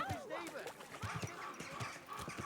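Horse hooves clip-clop in the medieval game Kingdom Come Deliverance 2, a steady string of light knocks running under continuous talking and other voices close by.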